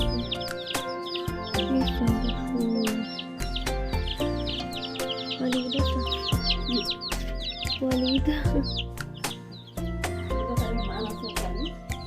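A hen clucks softly while her five chicks cheep in a rapid, high chorus, all close by and continuing without pause.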